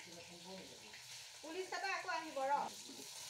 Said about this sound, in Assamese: এয়া মোৰ মাছ ভজা হৈছে